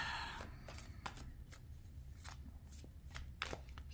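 Tarot cards handled and drawn from a deck, giving soft scattered flicks and slaps spread irregularly over the moment, fairly quiet over a low background hum with no talking.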